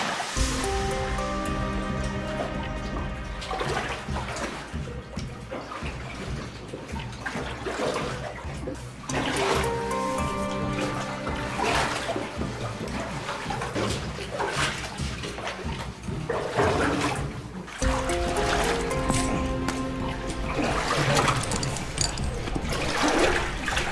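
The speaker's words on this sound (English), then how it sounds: "So we're now about to go through all this water here." Water sloshes and surges continuously as people wade through a flooded passage in a deep underground mine, 1,370 feet down, holding a chain beside a rusty old pipe; loud, close and churning, with brief surging bursts.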